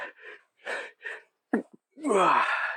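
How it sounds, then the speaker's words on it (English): A few short breathy vocal bursts build up, then a sharp intake and a loud, drawn-out sneeze erupts close by. "Everybody loves a good sneeze."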